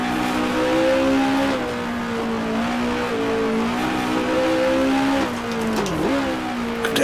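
A race car engine revs steadily at high pitch, with rising and falling tones as it shifts through gears and a sharp dip around a downshift, loud and close throughout.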